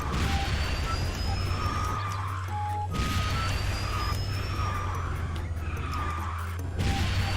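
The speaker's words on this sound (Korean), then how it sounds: "야 이거는 엔진 소리가 좀 특이하다." Video game vehicle engine droning low and steady throughout, with rising synthetic whines and screeching game effects layered on top.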